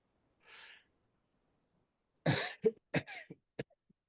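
A single sharp, explosive sneeze bursts out in a quiet room, followed by a few short breaths and throat noises, with a faint rustle just before.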